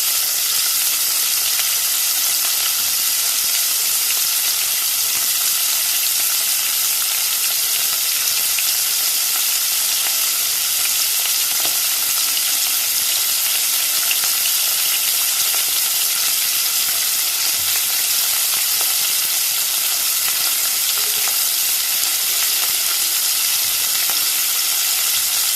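Washed, cut chicken gizzards fry in melted ghee over high heat, giving a loud, close, continuous sizzle that stays even throughout with no voices.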